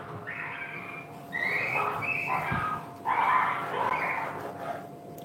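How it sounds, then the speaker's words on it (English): Several dogs fighting outdoors, with bursts of yipping, whimpering and barking in a few rising and falling clusters, somewhat distant and muffled, with a low steady background hum. "our dogs are fighting outside"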